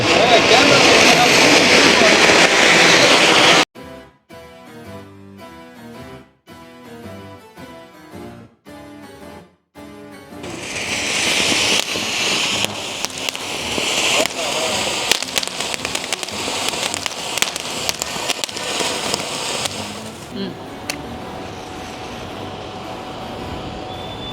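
Diwali flower pot fireworks erupt in loud, roaring, hissing sprays, with a stretch of excited voices between bursts before a second long fountain gushes and fades.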